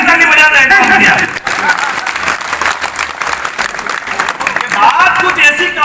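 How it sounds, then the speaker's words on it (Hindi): An audience at a Hindi poetry recital breaks into loud, sustained clapping that fills the whole stretch, with voices rising over the applause at the start and the end. "आनंद जी जरा बढ़िया ताली बजा रहे हैं।"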